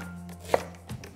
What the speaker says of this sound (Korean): 양파는 아프컷을 해주시고 칼집을 깊숙하게 이렇게 내주세요. 약간 차파듯이 썰어 주시면 됩니다.